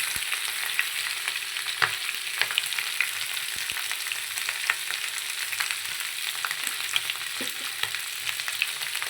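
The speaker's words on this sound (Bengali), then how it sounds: "আলুটাকে একটুখানি সিদ্ধ করে নিয়ে একটু নাড়াচাড়া করছি তেলের মধ্যে একটু হালকা ভেজে নিচ্ছি নুন দিয়ে হলুদ দিয়ে" Boiled potatoes frying in hot oil with salt and turmeric, a steady close sizzle broken by scattered clicks and scrapes of stirring, with no voices.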